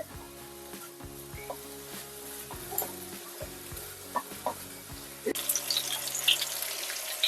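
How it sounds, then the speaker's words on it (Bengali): Leafy greens (shak) frying in a pan, a steady close sizzle with repeated scraping stir strokes, the frying growing brighter and louder toward the end, no talking. "আমার এদিকে শাক ভাজা প্রায় রেডি এবার নামিয়ে ফেলবো"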